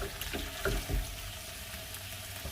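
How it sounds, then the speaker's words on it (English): Potatoes saute in a hot pan, a soft steady sizzle with a few brief stirring clatters near the start, faint and continuous with no talking. "make things aromatic as the potatoes cook and saute"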